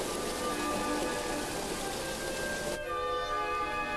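Steady autumn rain falls in a dense, even hiss of countless drops striking the ground, continuous and fairly loud throughout with no voices.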